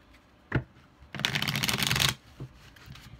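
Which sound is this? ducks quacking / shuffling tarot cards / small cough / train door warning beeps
shuffling tarot cards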